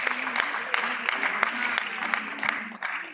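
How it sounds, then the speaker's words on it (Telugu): An audience at a Kuchipudi Yakshagana performance claps for the honored gurus: a brief, moderately loud round of many hands with sharp, uneven claps, while voices go on underneath. "ఒక్కసారి వీరందరికీ గట్టిగా చప్పట్లు."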